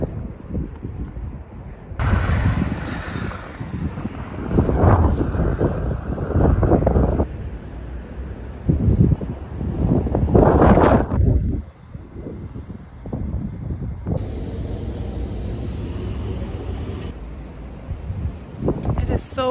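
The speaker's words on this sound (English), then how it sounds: "So windy." Wind gusts buffet the microphone in heavy, rumbling bursts, with broadband roaring that rises and falls throughout.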